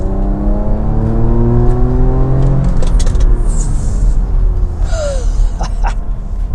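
A Porsche Macan Turbo with a twin-turbo V6 pulls away, its engine rising in pitch through the gears under steady road and wind rumble, heard from inside the car.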